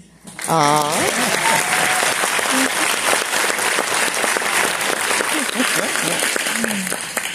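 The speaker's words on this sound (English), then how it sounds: "if you guys could give us a big round of applause" Sustained applause from a school graduation crowd at Bishop Sutton, loud and steady for about seven seconds, with a voice speaking over the start and scattered cheers mixed in.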